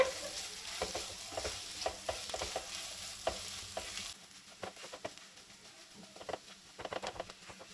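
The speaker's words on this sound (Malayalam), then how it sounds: "അതും കൂടി ഇതിലേക്ക് ചേർത്ത് എല്ലാം കൂടി നല്ലതുപോലെ ഒന്ന് മിക്സ് ചെയ്തെടുക്കാം." Cooked chicken and mashed potato for a Russian cutlet filling being stirred in a pan, with rhythmic scraping strokes over a low sizzle that drops noticeably quieter midway, then continues with lighter taps and scrapes.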